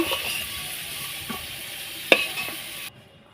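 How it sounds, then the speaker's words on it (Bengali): Potatoes frying in oil in a kadai as a patol curry is prepared, giving a steady close sizzle with a few light utensil taps, ending abruptly. "আর একটা তেল দিয়ে আলুটাকেও ভেজে নিলাম"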